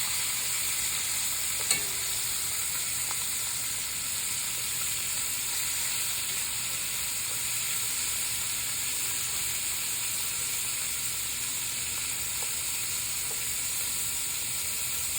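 Meat sears and browns in a pan with butter and flour for a braise, giving a loud, continuous hissing sizzle that holds steady and close, with only a faint clink near the start.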